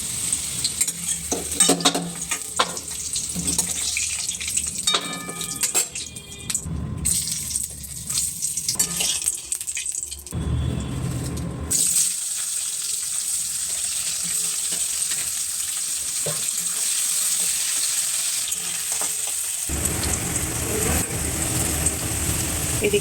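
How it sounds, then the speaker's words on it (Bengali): Potatoes frying in a pan until browned, with a crackling sizzle and occasional utensil scrapes, close by. The sound shifts in level and drops away briefly partway through, then settles into a steadier hiss, without speech. "আলুগুলো লাল লাল করে ভাজা হয়ে গেছে"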